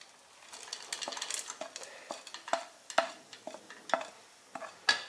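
Roasted dry fruits are stirred into a wheat flour and jaggery halwa, soft scraping and light clinks of a utensil against the pan, quiet and irregular, no talking.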